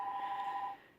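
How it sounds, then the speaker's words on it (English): A phone gives off a steady electronic beep tone, loud and alone, holding evenly for most of a second before cutting off. "There goes my phone."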